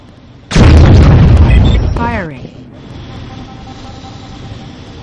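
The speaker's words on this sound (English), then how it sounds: "Laser satellite firing." A laser satellite strike in the Warzone 2100 strategy game, a single loud, sudden booming explosion followed by a descending zapping sweep and a lingering rumbling hiss.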